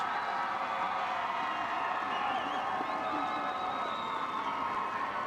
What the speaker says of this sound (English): Coach Spears applauding his team, as are the Howells fans